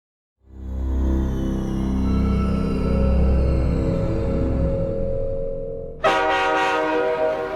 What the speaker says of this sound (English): Beijing, China, West Railway Station.